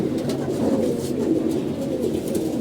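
Pigeons coo continuously in low, throaty murmurs, several birds close by overlapping in a steady rolling drone.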